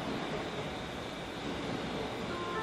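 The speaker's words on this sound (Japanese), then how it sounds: "3番線列車が入ってきております。" A steady broadband rumble of a train rolling in at platform 3 of Nagaoka Station, Japan, continuous and fairly loud throughout, with no voices.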